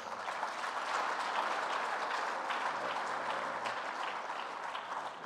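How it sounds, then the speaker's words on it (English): Steady audience applause at a memorial lecture event, a dense, even wash of many hands clapping heard from a moderate distance, sustained throughout without any voices. "let's give our children another round of applause"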